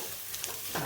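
Coconut pieces and grated coconut for a kakka (clam) fry are stirred in a hot pan: a brief, soft scrape of a spoon over a faint sizzle, lasting under a second.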